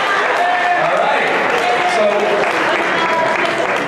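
An audience at a Kristina Karamo event gives a round of applause: dense, even clapping from a crowd that fills the whole stretch at a steady loud level.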